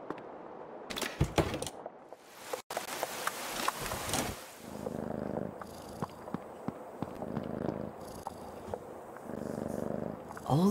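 A frightened kitten in the game Creepy Tale 2 purrs softly and steadily, broken by sharp clicks and brief bursts of other game sounds, with no talking.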